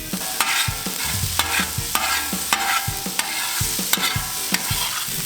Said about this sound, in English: We're gonna put some butter in with the bacon grease.